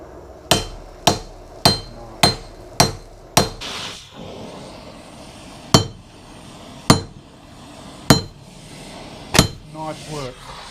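A hammer striking a heated metal blade, a run of evenly spaced sharp ringing blows, then a pause and more slowly spaced strikes, close and loud, with a brief voice near the end.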